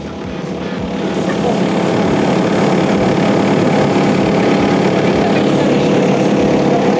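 Diesel engine of a Hidromek 62 SS backhoe loader running steadily nearby, a loud continuous droning rumble that builds over the first second and then holds.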